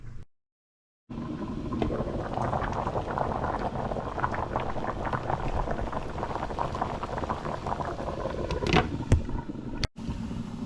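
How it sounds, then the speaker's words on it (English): Diced sweet potatoes boiling vigorously in a pot of water on a kitchen stove, a steady close bubbling roar that runs continuously after a brief silent gap, with a couple of faint clicks near the end. "they're vigorously boiling over there"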